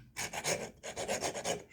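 Steel file on a Swisstoolx multi-tool pocket knife rasping back and forth in about seven steady strokes, close and fairly loud, with a brief pause midway and no voices.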